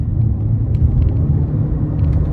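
A 2026 Omoda 5 accelerates with a low, steady engine and road rumble from inside the cabin, a muffled continuous drone without talk.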